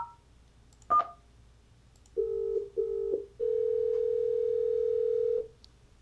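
Phone dialing a call to its own 3CX voicemail: a short blip followed by two brief touch tones and then one long steady tone, clear and close with no one talking.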